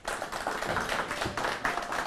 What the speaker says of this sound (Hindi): आज तो तालियां ही बंद नहीं हो रही जी